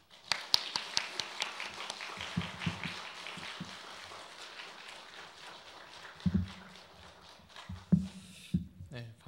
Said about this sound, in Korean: 나오실 때 우리 환영하는 의미에서 박수 하시겠습니다